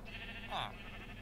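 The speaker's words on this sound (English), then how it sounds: "we've been breeding some sheep" A single short bleat from a bred sheep in a steampunk castle video game, soft and brief, with faint background tones.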